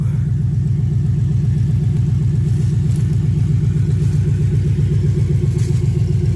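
A BMW E9X M3 with a Bomiz X-pipe exhaust idles steadily and up close, its deep, loud rumble pulsing evenly with no voices over it.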